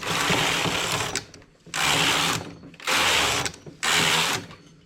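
A knitting machine carriage runs across the needle bed while knitting a leaf in English rib, making four loud, even mechanical rattling passes separated by brief quieter pauses.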